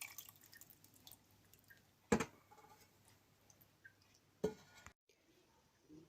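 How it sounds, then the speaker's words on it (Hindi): Mutton stock (yakhni) for pulao being strained in a kitchen, with quiet dripping and two sharp clinks of a utensil against a pot amid faint liquid sounds. "ये जो मटन की हमने यखनी बनाई है इसको छान लेते हैं"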